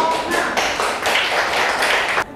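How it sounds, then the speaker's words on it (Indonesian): Classroom students clapping for a presenting group during a lesson on electricity, a dense steady burst of close claps lasting a couple of seconds before stopping abruptly. "Beri tepuk tangan untuk kelompok"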